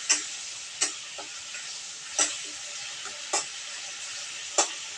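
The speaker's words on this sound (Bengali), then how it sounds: "এবার আমি আলু দিয়ে দিব আলু দিয়ে একটু আছে আমি নাড়াচাড়া করে নেব" Potatoes stirred in a pan of fried spice paste, with a soft steady sizzle and a few sharp spoon scrapes and taps against the pan at irregular intervals.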